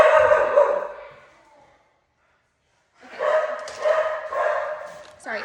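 A protective pet dog barking loudly indoors while children visit the house, two bursts of close, strong barks separated by a brief pause.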